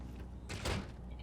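A door in the video game Fallout New Vegas shuts with a single broad burst of noise and a low thump, set against a steady low game hum.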